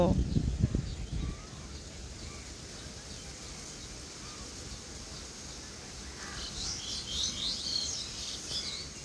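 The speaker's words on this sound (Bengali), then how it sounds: "পাখির কিচিরমিচির শব্দ।" Birds chirp and tweet around a village home, faint and scattered in the background, with a brief louder burst near the start and a cluster of calls toward the end.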